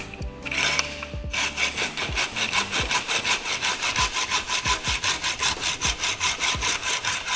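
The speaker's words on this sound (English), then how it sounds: "Isn't that a nice change of sound? Kind of the Doppler effect of cutting tubing, isn't it?" Hand saw cutting through integrated bicycle seat mast tubing in steady back-and-forth strokes, a rhythmic rasping that holds an even pace with a brief higher scraping at the start, close and alone.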